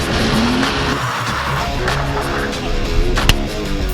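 A Nissan 350Z drifts at Mondello Park with loud, sustained tire squeal over a hard-revving engine. One sharp squeal-like spike comes near the end, with faint talk underneath.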